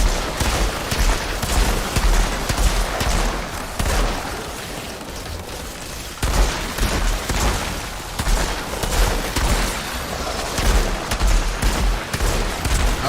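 Rapid video game gunfire and explosions from Outriders, loud sustained fusillades with a short dip in the middle before the shooting resumes, no talk.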